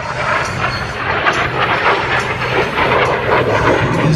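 A-4 Skyhawk jet flying at a Blue Angels Homecoming airshow, a steady loud broadband roar that holds constant throughout without letup.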